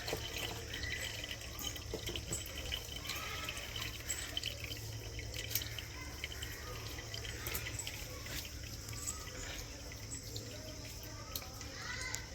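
Fish are washed with salt in water in a kitchen, with continuous faint splashing, dripping and sloshing throughout, quiet and close-up.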